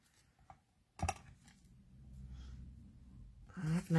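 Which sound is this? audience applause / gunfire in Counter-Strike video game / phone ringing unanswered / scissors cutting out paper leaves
scissors cutting out paper leaves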